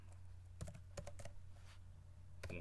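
Keystrokes on a computer keyboard while entering a database username during a LAMP server setup, a few scattered clicks and short bursts of taps over a steady low hum, close and fairly quiet with no talk.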